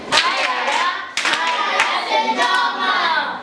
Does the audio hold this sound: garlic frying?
no